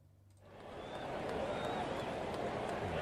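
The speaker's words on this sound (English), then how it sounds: "I don't use this crowd noise as often, but we'll let it go for a little bit this time" Stadium-style crowd noise effect during a Blue Jays vs Yankees baseball broadcast, a dense steady murmur of a large crowd that swells in after a quiet start and holds at full level.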